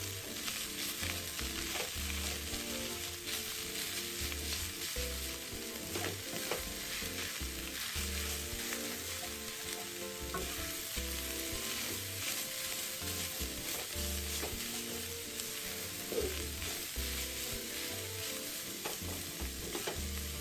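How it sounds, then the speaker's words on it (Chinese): Shredded carrot and white radish filling stir-fried continuously in a wok, a close, steady crackling sizzle with a low rhythmic rumble and occasional spatula scrapes, no voices. "摊散后持续翻炒"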